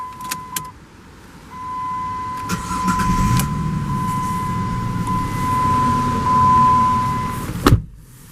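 A 2004 Jeep Liberty Sport Columbia Edition with a 3.7L engine starts by key: chimes and clicks, a brief cranking, then the engine catches and settles into a steady idle, close and clear before a sharp clunk near the end.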